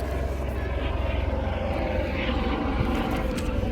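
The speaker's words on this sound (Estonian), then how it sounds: "Ja helikopter on seal." A helicopter flies over a rally stage in Estonia, its steady engine and rotor drone loud and continuous throughout, with a broad rumble that never lets up.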